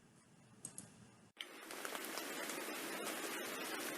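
Steady rain patters densely on a surface, a continuous hiss of drops that cuts in abruptly after a brief quieter moment.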